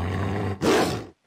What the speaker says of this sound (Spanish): El lobo empujó la puerta y con un gruñido se lanzó hacia la cama.